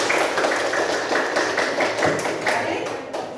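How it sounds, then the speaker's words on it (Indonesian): Classroom applause for a student named Sabil, a burst of many hands clapping together at close range that runs steadily for a few seconds and fades slightly toward the end, with no talk over it. "tepuk tangan untuk Sabil"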